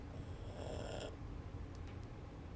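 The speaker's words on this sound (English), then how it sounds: "I'm sorry if you can hear yawning because my dog's sleeping on me right now." A sleeping dog gives a soft, drawn-out yawn, breathy and close, fading into quiet low room noise with a faint squeak near the end.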